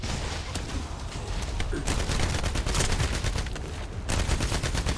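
Hand cannon fire in a video game comes as rapid, dense volleys of shots that run unbroken under a loud, continuous wash of battle noise.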